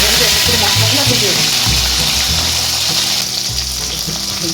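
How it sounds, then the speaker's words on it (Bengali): Tomatoes and spices fry loudly in a pan, a strong continuous sizzle with stirring scrapes and bubbling that eases slightly toward the end; no one speaks. "এর মধ্যে আমি এখন এক এক করে যাচ্ছি, মশলাগুলো ভেজে"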